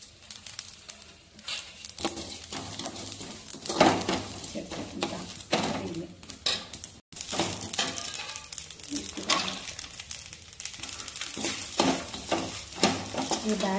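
Ingredients for Krishna Janmashtami laddoos roast in a pan, sizzling and scraping as they are stirred repeatedly, close and steady, with brief gaps between strokes.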